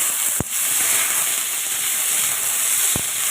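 Okra frying in a pan with onion and tomato, a loud, steady hiss of hot oil close up, broken by two sharp clanks of a utensil against the pan.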